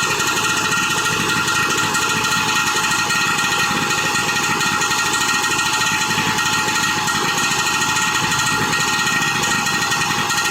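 A two-stroke engine, fed a 1:3 to 1:4 oil mix, runs steadily just after starting. Its loud, continuous, buzzy drone holds even throughout, with no talking over it.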